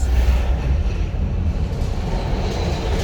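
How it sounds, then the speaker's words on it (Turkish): A loud, continuous low rumble of a tram rolling close by in Zagreb, Croatia, with a faint clatter from the wheels and no voices. "Tramvay yanımızdan geçip gidiyor bak."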